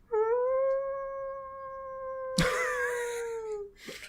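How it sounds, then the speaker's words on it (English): A man lets out a loud, sustained vocal howl with a steady rising-then-level pitch for a couple of seconds, then breaks into a burst of noisy shouting or laughter near the end, close and alone. "Why'd you just howl?"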